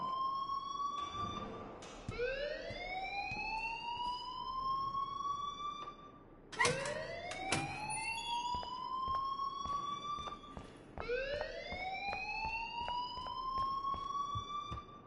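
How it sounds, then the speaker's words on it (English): An alarm wails in a video game, a rising siren sweep that repeats in long cycles every few seconds, loud and steady with brief gaps between sweeps and no speech. "please turn off that alarm since that's your job."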